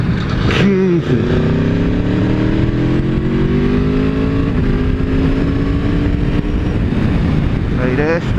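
An Aprilia Tuono V4 1100 Factory motorcycle with its stock exhaust revs hard and loud through rising gear pulls, with the engine note climbing and dropping close by over wind noise.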